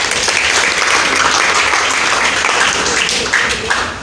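A church congregation claps and cheers continuously for Jesus Christ, a loud, dense wall of applause that holds throughout and tapers slightly at the end.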